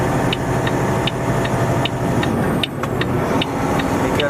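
A heavy haul truck drives up a narrow, short highway ramp, its engine giving a steady close drone with road rumble throughout and faint periodic ticks.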